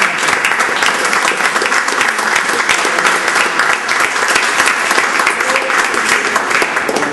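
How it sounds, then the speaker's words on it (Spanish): A large audience applauds steadily and loudly for the whole stretch, dense clapping with no voices on top, at a Spanish-language tribute gathering. "Y otro aplauso bien grande al maestro y a las nietas que están aquí."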